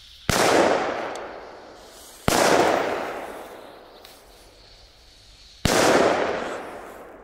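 Three sharp, loud Belgian firecracker bangs spaced a few seconds apart, each followed by a fading crackle and echo.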